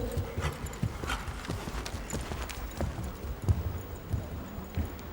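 A horse's hooves trot under saddle in a working trot, a steady, fairly close clip-clop rhythm of muffled beats on soft footing, with no voices over it.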